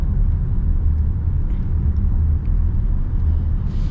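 Inside a 2025 Toyota Crown Platinum hybrid on the road, a steady, even low rumble of the drive fills the cabin with no voices.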